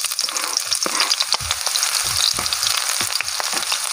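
Shallots hiss in hot oil with a loud, continuous crackle as they sauté. Soft scraping of a spatula stirring them comes through at irregular moments.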